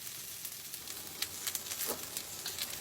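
Shrimp shells sizzle in a hot pan with olive oil, a steady soft crackle punctuated by brief sharper pops, fairly close.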